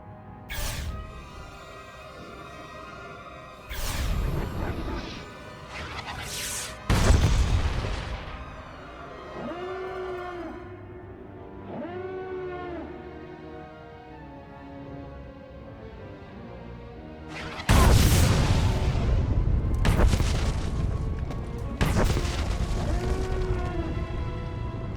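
Satellite weapon blasts and explosions in Star Wars: The Old Republic, several heavy booming impacts spaced apart with rumbling tails, loud and cinematic over an orchestral score.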